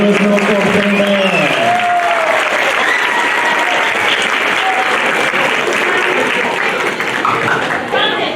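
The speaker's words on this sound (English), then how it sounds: "Give them one more round of applause." A middle school beginner band's concert audience applauds steadily and loudly, a dense wash of clapping from a crowd, with a voice speaking over the first couple of seconds.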